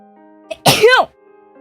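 A single sharp sneeze bursts out close to the microphone, short and loud against near-silence, with faint background tones from a computer game.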